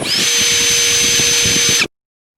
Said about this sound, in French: Et je vais fraiser chaque trou pour que les vis soient vraiment à l'intérieur et ne dépassent pas.